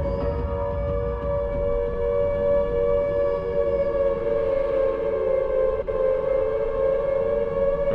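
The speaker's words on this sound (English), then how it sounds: "I realized the siren was going off." A loud, steady siren wail drones continuously with layered tones, sustained throughout with a brief click near the end, in the video game Silent Hill 2 HD.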